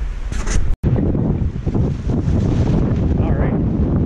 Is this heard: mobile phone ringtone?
no